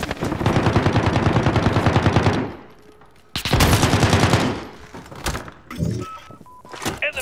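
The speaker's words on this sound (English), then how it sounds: "Turret deployed." An automated turret in a video game fires rapid bursts of shots, two long loud volleys separated by a pause, then scattered thuds and shorter hits.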